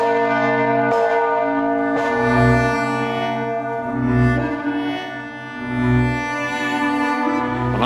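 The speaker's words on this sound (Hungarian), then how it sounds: "Boldog asszony harang mellett állunk, ami talán a leghíresebb, leginkább legendás harangja a bazilikának." The Nagy Boldogasszony church bell of St. Stephen's Basilica in Budapest rings out in rich, resonant strikes about every two seconds. Each strike leaves a long, humming ring that overlaps the next.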